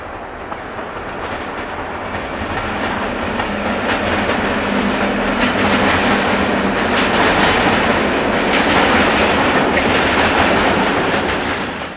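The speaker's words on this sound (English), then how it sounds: "Here 2125, one of 60 class members, heads south along line 12 with a freight from Essen." Belgian Class 21 electric locomotive 2125 hauls a southbound freight train along line 12, building to a loud, close, sustained rumble with rhythmic clickety-clack of wagon wheels and no voices.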